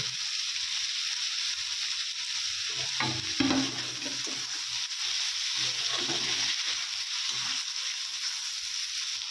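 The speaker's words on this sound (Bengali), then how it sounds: "এই পটলগুলো ভাজার সময় দিদিভাই দাদা ভাইদেরকে বলছি একটুও জল দেবে না" Pointed gourd frying in a pan with whole cumin, a steady close sizzle running throughout with a few louder stirring scrapes and clatters near the middle.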